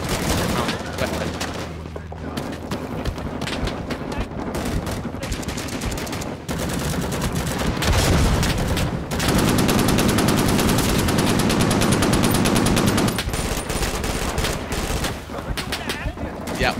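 Machine gun fire in the Vietnam War shooter Rising Storm 2: Vietnam pounds out dense automatic bursts, loud and nearly continuous. Heavy sustained volleys run through the middle, with brief gaps between the strings of shots.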